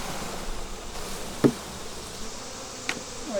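Honeybees being shaken off frames into a new hive, a dense continuous buzz with a sharp knock from the frame partway through and a lighter tap near the end.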